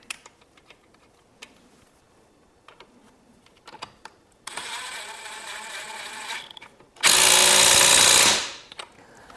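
A Dewalt ATOMIC 20V MAX 1/2 in. cordless impact wrench bursts into a loud, steady buzzing whir for about two seconds, then a second, louder run follows after a brief pause, with light clicks and handling noises before.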